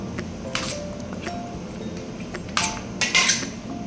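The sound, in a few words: spoon mixing ginger-garlic paste into chicken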